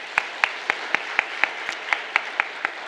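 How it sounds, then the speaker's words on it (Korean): A church congregation at an autumn revival service claps in unison, a sharp, evenly spaced beat of about a dozen claps over three seconds, loud and regular. "우리 모두에게 박수 한번 치겠습니다."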